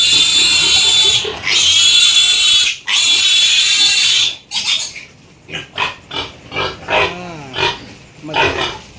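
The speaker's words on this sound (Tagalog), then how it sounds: "yung aking mga biik ay binintahan ko si kaibigang Rutgar" Farm piglets being sold for fattening squeal loudly and shrilly in long sustained bursts, then break into shorter, choppy squeals and grunts close by.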